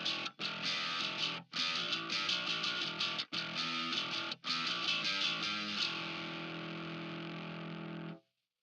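A metal bass guitar tone, heavily distorted through a Line 6 POD HD, plays a loud chugging riff with several brief stops. It ends on a sustained ringing note that cuts off abruptly.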